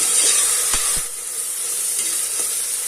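Onions fry with turmeric and salt for a mutton masala gravy, giving a steady close sizzle with a couple of sharp spoon knocks early on, and no talking.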